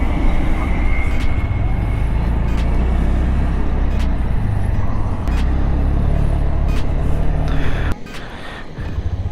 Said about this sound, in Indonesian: Oke, pas di starter mulus banget seperti motor-motor sekarang, emang udah silent dia,